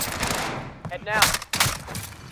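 Several short bursts of gunfire crack out in a Call of Duty Resurgence match, close and punchy, with a brief pause between volleys.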